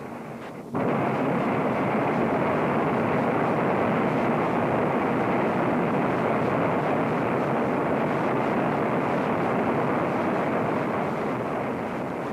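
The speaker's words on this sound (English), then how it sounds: "the most critical test of the engine itself, full power afterburner operation" An F-107A's jet engine roars at full afterburner thrust, a loud, steady, broadband blast that kicks in abruptly and holds constant throughout.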